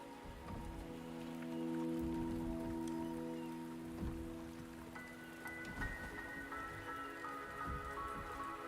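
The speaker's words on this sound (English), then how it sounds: "The rain is subsiding" Rain falls steadily in the video game Wuthering Waves, a dense patter on surfaces with soft drips, a low rumble and a sustained musical tone underneath, heard up close with no voices.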